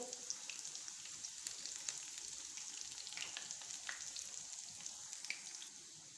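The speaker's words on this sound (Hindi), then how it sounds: "थोड़ा सा इसको हम इस तरह से फैला देंगे ताकि ये अंदर तक फ्राई हो" Eggplant slices fry in hot oil with a soft, continuous crackling sizzle and scattered tiny pops, fairly quiet and steady, with no talking.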